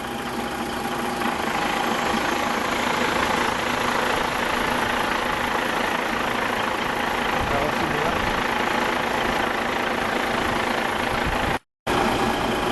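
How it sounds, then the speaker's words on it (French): A dump truck with a mounted hydraulic crane runs its engine at a steady, droning idle close by while the crane is unfolded, with someone speaking over the constant rumble. "Pour déplier la grue, tout d'abord, utilisez le lever du premier bras."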